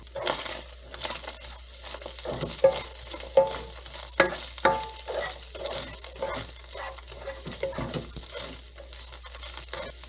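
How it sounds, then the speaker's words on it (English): Carrots stir-fry in a hot pan for a beef cabbage egg-roll-in-a-bowl, a steady crackling sizzle with repeated scraping and clinking of the utensil against the pan, close and continuous with no talk. "Now we're going to throw these carrots in, get them warmed up"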